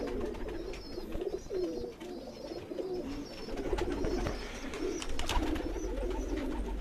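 Pigeons, including a Missa pigeon and a Ferozpuri hen, coo steadily in a rooftop loft, soft repeated throaty calls overlapping close by with light rustling in the background.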